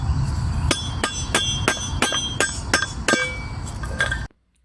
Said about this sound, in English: It's better to hammer the bushings out on a soft surface like grass